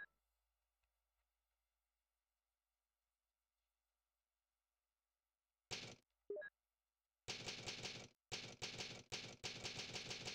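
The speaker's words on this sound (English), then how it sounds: "I like the typewriter sound." Typewriter save sound from the video game Resident Evil: after near silence, a couple of isolated clacks, then quick runs of rapid mechanical key strikes in bursts, crisp and close.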